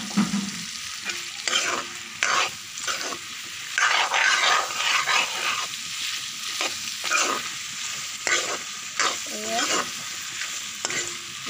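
Mutton pieces frying in a pan for an Assamese mutton curry, with a continuous close sizzle and repeated, somewhat irregular scraping stirs that keep going throughout.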